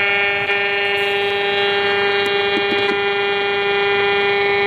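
Steady radio frequency interference hum picked up by a Radio Shack pocket radio inside a car, a loud, unbroken buzzing drone with dense harmonics and a few faint clicks, no talking.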